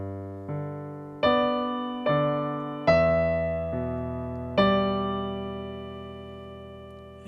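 Solo piano plays a repeating chord pattern from a piece, with about six struck chords that each sustain and decay in a slow, even rhythm, close and clear, with no voices.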